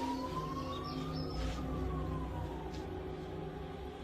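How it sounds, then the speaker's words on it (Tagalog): An ambulance siren wails in a slow rising and falling tone over a low constant rumble, moderately loud and fairly near, with no voices. "Ayun, tama-tama may ambulansya."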